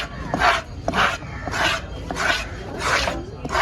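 A knife works through a red snapper at a busy fish-cutting stall in Kasimedu, giving rhythmic rasping scrapes about twice a second, loud and close, with some background noise.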